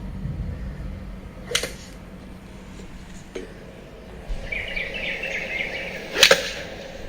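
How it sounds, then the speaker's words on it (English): A golf iron strikes the ball with solid compression, giving a few sharp, crisp impacts spaced several seconds apart over a quiet background, the last one loudest. "Very solid ball compression sound."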